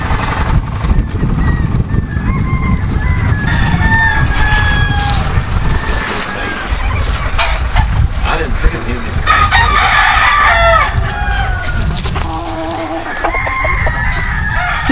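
Several big roosters crow repeatedly on a farm in Purom, Oklahoma, their loud calls rising over a steady outdoor background with clucking fowl nearby.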